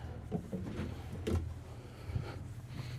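Wooden drawers in a 2025 Renegade Verona 40VTS motorhome slide open and shut with soft rumbling glides and a few light knocks, close up, under faint background noise.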